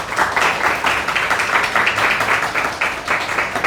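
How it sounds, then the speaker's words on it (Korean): A church congregation at a Sunday worship service in Dubai applauds in welcome, with a steady, dense round of clapping from many hands throughout. "우리 사랑으로 박수 환영합니다."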